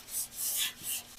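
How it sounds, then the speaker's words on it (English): Hand-sanding a car grille's body line down to bare metal on an 80s hot rod, three rhythmic rasping strokes back and forth, close and clear with no talk. "I've almost got to sand it right down to the metal in there"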